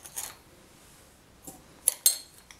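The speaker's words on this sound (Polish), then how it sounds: "Do tego wsypuję 2 łyżeczki cukru." Spoonfuls of sugar tipped into a mug of Nescafe instant coffee, heard as a few soft, brief clinks and scrapes of a teaspoon against the mug in a quiet kitchen, with no talking.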